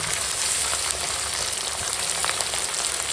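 Fried vegetables with chili and turmeric powder and salt sizzling loudly in a pan, a dense continuous crackle close up with no talking.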